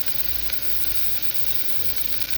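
Garlic sizzles steadily in hot oil while being browned for a black mutton curry (kala mutton), a close, continuous frying hiss with no talk.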